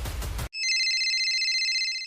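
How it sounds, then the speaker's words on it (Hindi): A phone rings with a steady electronic ringtone, loud and close, right after a brief burst of music cuts out, in a drama scene. "इतने में मनन का फोन बजता है।"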